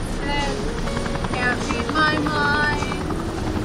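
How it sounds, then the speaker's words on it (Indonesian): A helicopter hovers for a rescue lift, its rotor drone steady and loud for the whole stretch, with faint voices mixed in. "Beberapa saat kemudian pertolongan datang dan mereka diangkat naik ke pesawat."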